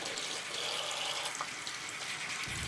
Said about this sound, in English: adding some more water to kind of get it more sudsy and start to actually rinse the product out